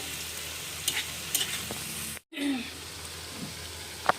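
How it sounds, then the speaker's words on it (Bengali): Palm fritters (taler bora) fry in hot oil over medium heat with a dense, close sizzle and a few stirring scrapes, cut by a brief silent gap partway through. "দেখুন আমি সুন্দর করে বড়াগুলো ভেজে নিয়েছি"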